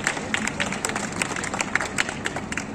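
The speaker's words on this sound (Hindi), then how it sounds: "एक बार जोरदार तालियों के साथ माननीय भूपेंद्र जी का स्वागत और अभिनंदन करिए।" An audience at a political gathering claps to welcome the honourable Bhupendra ji, a dense, steady patter of many hands with sharp individual claps popping out, sustained throughout.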